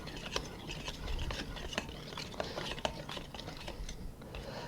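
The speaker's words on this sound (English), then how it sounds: "With a dough cutter, mix your dry ingredients" A dough cutter scrapes and stirs dry ingredients, flour, sugar, salt and active dry yeast, in a bowl, giving soft scratchy rubbing and a few faint clicks up close.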